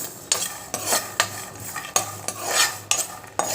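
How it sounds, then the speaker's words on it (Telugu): Tomato dry-roasting with salt in a pan without oil, stirred with a utensil: a series of sharp scraping knocks against the pan at an irregular beat, with a soft sizzle between strokes and no talking. "జస్ట్ ఉప్పు పెనంలోనే వేపుతున్నాను నేను టమాటోలో"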